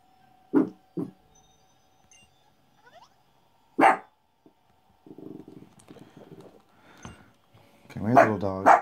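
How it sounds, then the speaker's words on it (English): A small pet dog barks in short sharp yaps, a few isolated barks spaced across the moment alongside a person speaking nearby, indoors and fairly close. "And my dog's starting to bark."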